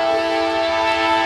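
Westbound freight train rolling past close by, a loud steady rumble with a sustained horn blast throughout, no voices.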